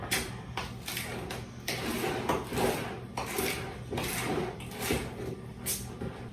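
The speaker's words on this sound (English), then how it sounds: "So now I will complete the stirring process and just fold it in there like so." Soft rhythmic scraping and thudding of a spoon folding walnuts into thick brownie batter in a bowl, steady repeated strokes close by, with no talking.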